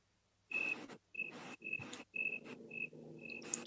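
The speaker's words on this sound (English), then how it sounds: "It's funny, we actually do hear crickets." Crickets chirp close by in short, sharp bursts, five or six trilling pulses in quick succession against otherwise quiet surroundings.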